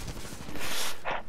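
Rifle fire in multiplayer Titanfall comes as a rapid, loud burst of close shots, followed by a brief sharper blast near the end.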